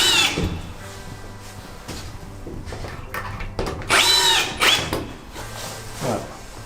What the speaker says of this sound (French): Et maintenant, je vais visser pile au centre de là où j'avais une vis.